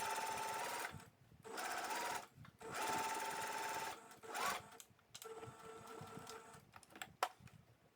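A sewing machine stitches elastic into jogger pants, running in several close, loud bursts of rapid mechanical whirring separated by short pauses, ending with quieter clicks and handling noise.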